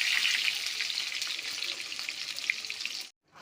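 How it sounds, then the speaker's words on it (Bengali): Potatoes fry in mustard oil in a wok, a loud, dense, crackling sizzle that runs steadily before cutting off abruptly. "আলুটাকে আমি লাল লাল করে ভেজে তুলে নিয়েছি"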